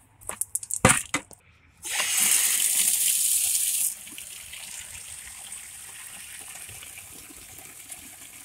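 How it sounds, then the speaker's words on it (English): Hot water gushes steadily from an outdoor tap for a couple of seconds, then drops to a softer, continuous flow, after a few brief splashes and clunks at the start. "That's hot water."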